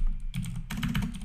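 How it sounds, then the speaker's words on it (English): Computer keyboard keys being hit in quick bursts of clicky typing, close up, with a short pause between two runs of keystrokes while playing Minecraft. "I hate when I hit keys and I don't mean to"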